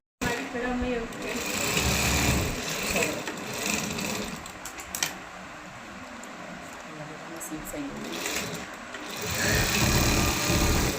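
An electric sewing machine runs top stitching in bursts of fast, even whirring, pausing briefly midway before revving up again, loud and close.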